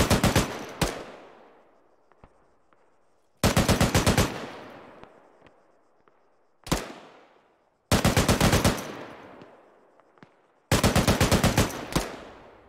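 Machine gun fire in the video game ArmA 3, five loud sustained bursts of rapid automatic shots, each trailing into a long echoing decay, with quiet gaps between bursts and no voices.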